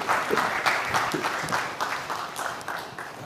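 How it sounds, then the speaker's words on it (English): An audience applauds to welcome a speaker to a presentation, a continuous, even wash of clapping from many hands at moderate volume throughout. "a big round of applause for Shailu."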